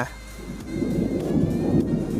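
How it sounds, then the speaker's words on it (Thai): Low, rolling thunder swells from a muffled start into a sustained rumble during a rainstorm, with a steady wash of rain beneath it and no voices. "ฟ้าร้องมาพอดีนะครับผมตอนที่ผมอัดคลิป"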